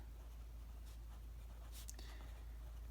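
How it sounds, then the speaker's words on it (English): Handwritten notes being jotted with a pen or marker, soft scratchy strokes in short bursts over a steady background hiss, faint and close. "I'm going to write that down"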